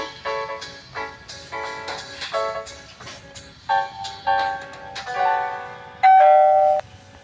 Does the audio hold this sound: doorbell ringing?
yes